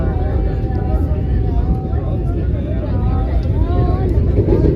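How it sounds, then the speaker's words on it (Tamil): The Vande Bharat Express runs at speed between Bangalore and Chennai, heard from inside as a loud, steady low rumble of wheels and motion, with faint squeals and rattles on top. "ஸோ ட்ரெயின் பார்த்தீங்கன்னாக்கா ஸ்டார்ட் ஆகிடுச்சு, ஸ்பீடாக போகுது"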